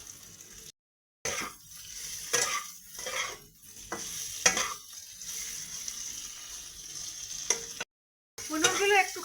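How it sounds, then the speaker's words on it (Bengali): Paneer pieces sautéed in melted butter, with an irregular sizzle and the scrape and clink of stirring in the pan, close up; brief silent gaps break the sound. "বাটারটা মেল্ট হয়ে গেছে, এবার পনিরগুলো ওর মধ্যে দিয়ে একটু সটে করে নেব।"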